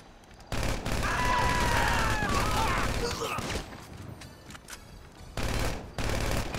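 Rapid bursts of gunfire from a gun in GTA 5, loud and close, with sustained automatic volleys, a brief lull, then fresh bursts near the end.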